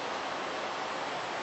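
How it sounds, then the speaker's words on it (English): Steady broadband wash of surf from the Gulf front, a soft continuous roar of ocean waves heard faintly in the background with no talk. "You can hear the ocean in the background."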